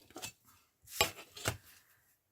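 Paper being cut to make a box, a few short quiet snips and crisp cutting strokes spaced out over a couple of seconds, close and faint.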